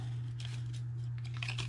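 Scissors snip through cardstock in a few short crisp cuts along score marks, close up, over a steady low electrical hum.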